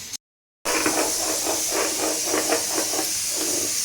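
A pressure cooker cooking dal lets out its whistle as a loud, steady jet of hissing steam with a faint fluttering pulse, cutting out briefly at the start and then continuing unbroken.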